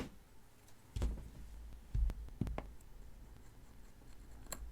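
A level 7 hardness mineral pick drags across a premium glass screen protector on an iPhone 13 Pro Max, giving a few short, faint scraping strokes close up in an otherwise quiet setting.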